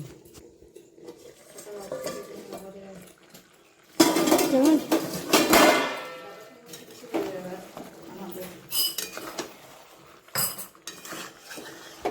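A lid is set over a pot of Bengali chicken curry, landing with a sharp metallic clank followed by a few lighter rattles and clinks, while someone talks quietly before and after.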